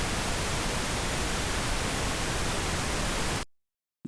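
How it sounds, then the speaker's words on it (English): A steady pink noise test signal plays from Pro Tools during mix balancing, a loud, even broadband hiss that holds constant and then cuts off abruptly near the end. "So this is the pink noise."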